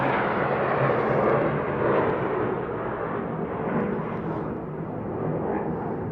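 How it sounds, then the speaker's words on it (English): Airplanes pass overhead above a backyard, making a steady broad rumbling roar that holds at moderate level throughout with no talk. "there's planes going over"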